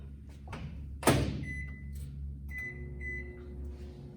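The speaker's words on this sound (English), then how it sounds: "I'm gonna microwave this for 1 minute." A microwave oven runs with a steady low appliance hum throughout, with a thud near the start and faint electronic tones; no talking.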